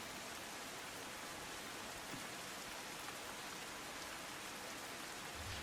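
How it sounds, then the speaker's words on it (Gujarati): Steady monsoon rain falls continuously across Banaskantha, Gujarat, a dense even hiss of drops on surfaces with no voices. "હવામાન વિભાગની આગાહી મુજબ વરસાદ ખાબક્યો"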